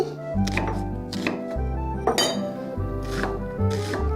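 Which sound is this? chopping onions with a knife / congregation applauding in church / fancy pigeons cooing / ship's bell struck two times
chopping onions with a knife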